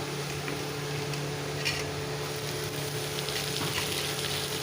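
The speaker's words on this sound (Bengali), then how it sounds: "পেঁয়াজটা ভাজা হয়ে গেছে, এবার আমি এতে সবজিগুলো সব তুলে দেবো একটু একটু করে।" Vegetables from a kitchen garden, greens for a pumpkin-leaf curry, hit hot oil with onions in a pan, giving a steady broadband sizzle and frying hiss throughout, close and continuous with no talk.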